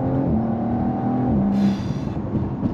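2.9-litre V6 in an Audi RS 4 Avant hums steadily under load with a gentle rise in revs, heard from inside the car at moderate volume with no talk.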